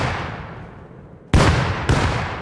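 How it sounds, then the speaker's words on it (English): Two sharp, loud grenade blasts in the survival game Rust, one right after the other during a primitive cave base defense, each hitting suddenly and rolling off into a rumbling tail. "they're letting him sit and throw nades deep into it"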